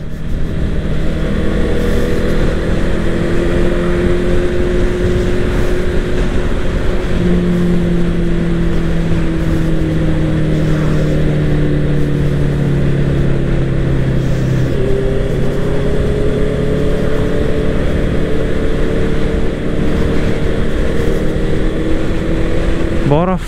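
A loud water scooter motor drones continuously up close, its pitch sliding up and down as it accelerates and eases off, with a voice over it.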